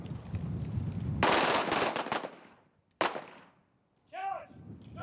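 Gunfire at a shooting range during filming of The Rock (1996): a loud burst of rapid automatic shots, then a single sharp crack, with shouting voices in between.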